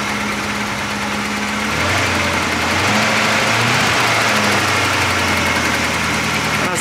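A Porsche 928 engine idling with a throttle problem, a loud steady rumble whose low drone shifts pitch partway through as the revs change, close up and without speech.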